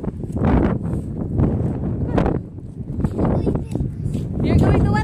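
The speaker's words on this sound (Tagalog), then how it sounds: "Windy man, guys, ay windy." Strong wind buffets the microphone in heavy rumbling gusts throughout, with people talking over the roar.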